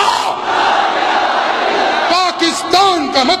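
Standing youths in a packed Aiwan-e-Iqbal audience shout a loud unified chant in reply to a political slogan at a Pakistani religious address, a dense roar lasting a couple of seconds before the speaker's amplified voice cuts back in.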